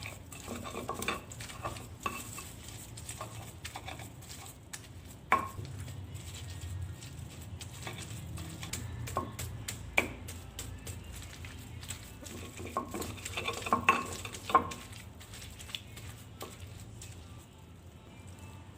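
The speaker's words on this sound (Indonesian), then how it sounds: "Lanjut saya giling kembali atau saya ulek kembali." Green chilies and green tomatoes ground in a mortar for Padang-style green sambal, with repeated irregular knocks, scrapes and grinding rubs of pestle on stone, close and fairly quiet over about nineteen seconds.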